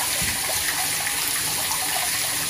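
Water from an automatic pump flows in a steady, broad rushing stream, loud and continuous throughout with no pauses.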